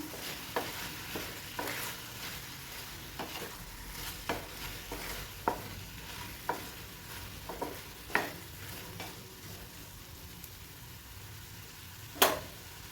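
A spoon stirs sweet potato sheera in a pan, making a rhythmic series of scraping knocks about once a second over a soft, faint sizzle, with one sharper clank near the end and no talk.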